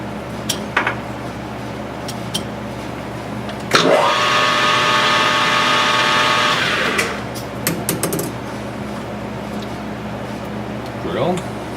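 A lathe motor whirs steadily for a few seconds as a center drill bores into metal cam-gear stock, framed by clinks and handling noises before and after.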